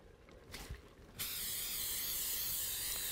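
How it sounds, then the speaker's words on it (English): Zero-fat cooking spray hisses from an aerosol can onto a pan: after a few faint kitchen rustles, a single sustained spray burst sets in and continues steadily to the end. "Spray our pan"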